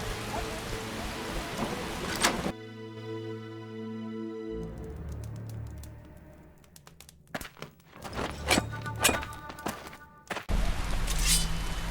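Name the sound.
rain falling in The Witcher video game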